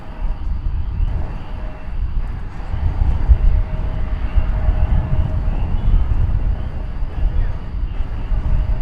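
A jet airplane rumbles steadily at DFW Airport in Texas, a loud, continuous low roar with wind buffeting the microphone throughout.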